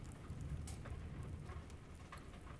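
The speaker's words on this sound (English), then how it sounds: "Oh, it's raining." Steady rain falls on a surface, a soft, even patter with scattered drops throughout, quiet and continuous with no voices.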